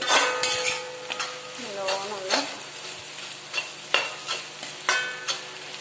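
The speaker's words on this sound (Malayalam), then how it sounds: "മസാല പൊടികളുടെ ഒരു കുത്തുണ്ട് അത് മാറി കിട്ടാൻ വേണ്ടി ഒന്ന് പൊടികളൊക്കെ ഒന്ന് മൂപ്പിക്കണം" Masala spice powders sizzle in a hot pan while a spoon stirs them, scraping the pan in repeated short strokes over a constant frying hiss.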